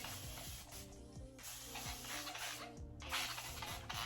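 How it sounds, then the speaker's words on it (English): A spray bottle hisses softly in a few short bursts of water mist onto a wig over faint background noise. "So spray it a little more with this water."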